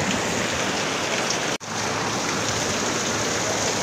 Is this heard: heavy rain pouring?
yes